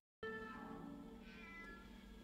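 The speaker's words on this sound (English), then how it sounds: "Cat is so annoying." A house cat gives one long, drawn-out meow, close and fairly clear, with no voices over it.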